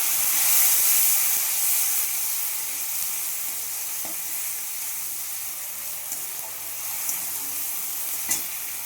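Tomatoes frying in hot oil in a pan for a potato and green pea curry, with a steady loud sizzling hiss throughout and occasional soft clicks of stirring, no talk.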